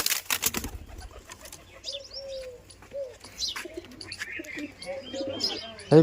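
Pigeons coo and flutter close by in a loft, with soft repeated coos, scattered chirps and bursts of wing flapping, and people talking intermittently in the background.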